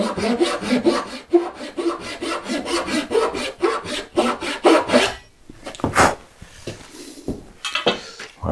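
A thin Western-style handsaw cuts wood in quick, steady rasping strokes for several seconds, then stops, leaving a few scattered scrapes and knocks.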